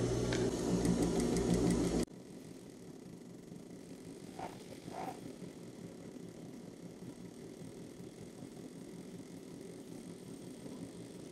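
Sewing machine set to its slowest stitch length sewing a fabric placemat, a loud, steady whirring run for about two seconds that then stops, leaving low background hum with a couple of faint knocks.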